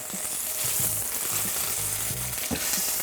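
A steak sears loudly in oil in a Vermicular frying pan, producing a strong, continuous close-up sizzle with crackling throughout.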